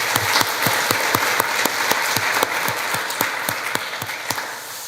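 A church congregation at a Sunday service applauds together, a steady wash of many hands clapping with sharp individual claps standing out, loud and sustained throughout.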